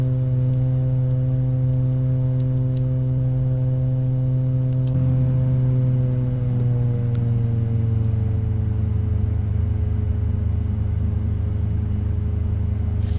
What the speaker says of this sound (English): it's turboprop, so you have to wait until this spools up